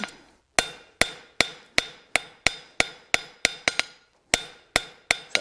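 Hammer blows on hot steel being forged into a ram's head: sharp, ringing metallic strikes at a steady rhythm of about two per second, each decaying quickly. They are close and loud, with short pauses and no talk.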